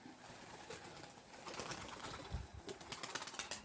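Young homing pigeons taking off and flying for the first time, wings flapping in short bursts at moderate distance, with faint cooing birds in an open outdoor setting.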